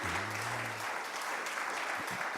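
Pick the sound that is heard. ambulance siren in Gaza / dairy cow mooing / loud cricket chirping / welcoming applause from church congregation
welcoming applause from church congregation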